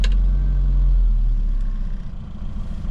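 A 1996 Rover Mini with a 1.3-litre engine cranks and catches with a brief sharp burst, then settles into a steady low, rumbling idle, close and loud inside the car.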